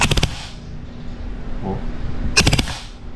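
An ICS CXP ARK airsoft rifle fires on full auto in two short, rapid rattling bursts, one at the start and another a couple of seconds later, with quiet background between them.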